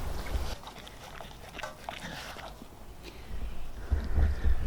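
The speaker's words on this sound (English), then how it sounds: "There's Miss Hebe, my daughter's puppy" A puppy whimpers and sniffs close by in a homestead garden, soft high whines and snuffling noises in short bursts, with low thumping bumps at the start and end.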